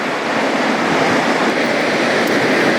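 Steady, close roar of roughly three-foot waves breaking, a continuous broadband wash with no voices over it.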